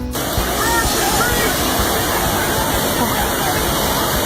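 Rushing floodwater in Oklahoma, a loud, continuous broadband roar of churning water that stays constant throughout with no break.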